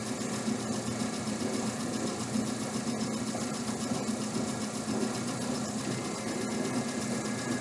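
A DC shunt motor runs steadily at about 1800 RPM with no load, giving a continuous even hum and whir with a faint mechanical rattle, no talking.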